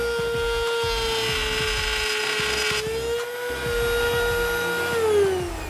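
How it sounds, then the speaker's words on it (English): A wood router spins up and mills through wood, a loud sustained motor whine that shifts in pitch as it cuts and then winds down at the end, with no talk. "there's a nice little hole over here to start the router. And you pull down on this."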